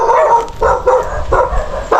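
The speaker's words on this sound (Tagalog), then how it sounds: "Daming aso dito." Several dogs bark in repeated bursts at a house in the Philippines, with about four loud barks spaced roughly half a second apart, fairly close, over low outdoor rumble and no talk.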